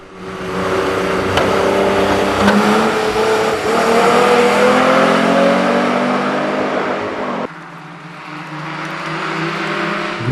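A rear-drive Renault Alpine A310 V6 race car roars loudly at high revs during a hill climb, sustained and close, then drops off abruptly before picking up again more quietly.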